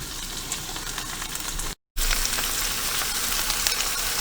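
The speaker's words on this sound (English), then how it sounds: "of sauteing of the onions and garlic scapes" Onions, green onion tops and garlic scapes sautéing in a pan, a steady, crackling sizzle close by, broken by one brief silent gap, with no one speaking.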